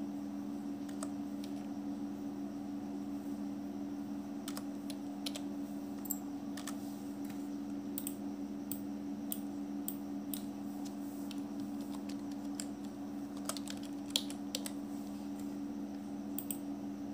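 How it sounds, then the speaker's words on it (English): Keystrokes on a computer keyboard while entering a name during Microsoft Excel macro recording, a series of sharp, irregular clicks over a steady low electrical hum, fairly quiet and close. "I'm type the name Rani"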